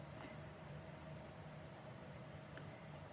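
Pen scratches across paper while chemistry formulas are written, a soft continuous scraping with small strokes, close and faint with no talk.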